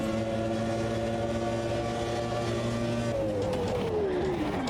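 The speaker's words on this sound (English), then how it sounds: "I'm hard on the throttle, yet the car won't accelerate, really." Classic Formula One car in Automobilista 2 holding a loud, steady engine drone with harmonic whine, then pitch slides downward as revs drop near the end; no talking.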